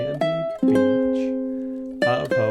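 A ukulele plays a melody, with a few plucked notes and chords left to ring out and a fresh strum near the end, close and clear, with no talking.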